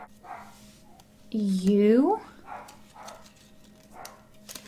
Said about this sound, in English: I'm so sorry about my dog, by the way, if you can hear him.